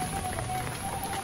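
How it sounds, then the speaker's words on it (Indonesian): Steady rain falling outside a house, a dense even hiss of drops on surfaces that carries on unbroken throughout, with no talk. "Cuacanya hujan. Iya, hujan."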